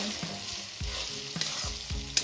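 Dry spices are stirred into Kashmiri chicken masala in a pan over a low gas flame, with repeated scraping strokes of a spoon over a steady soft sizzle, close and clear.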